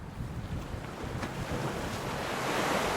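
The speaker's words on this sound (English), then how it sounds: "it's kind of windy out here today." Steady wind roaring across the microphone outdoors aboard a boat, with a broad rushing noise that grows slightly stronger, near open water.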